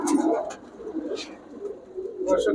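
Giribaz pigeons at a pigeon sale coo close by in soft, repeated throaty rolls, with little else around them.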